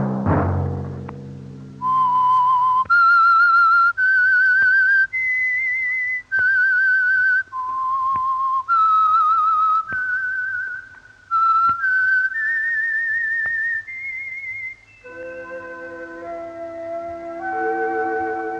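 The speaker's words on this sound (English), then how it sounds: "Let that whistle be your signal for the Signal Oil program, The Whistler" A lone whistler performs the eerie theme tune of the vintage Signal Oil radio mystery program The Whistler, a clear, loud melody of sustained, gliding notes with brief pauses, ending in a lower, orchestral-sounding phrase.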